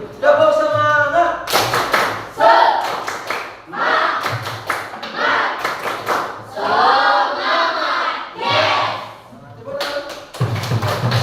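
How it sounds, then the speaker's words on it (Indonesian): A school class does a rhythmic spirit clap in bursts of sharp, unified claps between loud group chanting, with a teacher leading. "kita sedikit dulu tepuk semangat dulu. Bapak langsung pimpin. Tepuk semangat."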